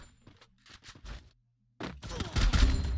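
Automatic gunfire in the Free Fire video game: a few short bursts early, a brief pause, then a loud sustained rattle of rapid shots, with faint talk from players in between.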